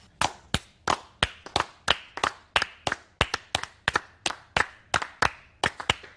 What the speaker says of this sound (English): Pretty basic, a little bit of clapping, a little bit of stamping